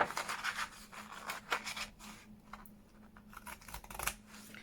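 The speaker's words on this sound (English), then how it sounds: "So I'm gonna cut this out." Scissors snip through paper close up in a quick series of short cuts, then slower, fainter snips in a quiet room.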